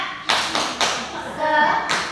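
Young children at a KB Bima Sakti playgroup doing a rhythmic spirit clap, a few sharp hand claps in a steady beat, close and moderately loud, with voices chanting along.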